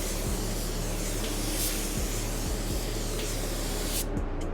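Spray gun laying down a cross coat of paint, a loud, close, steady hiss of atomized spray running nearly unbroken before cutting off abruptly at the end.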